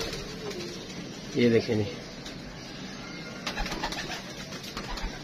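Pigeons in a loft giving a short throaty coo at close range, with someone talking over the scene and some faint clatter behind.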